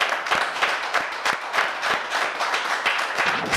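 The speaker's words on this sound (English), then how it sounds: "Clap it up, y'all." Dense applause from an audience, steady and loud throughout with sharp individual claps standing out.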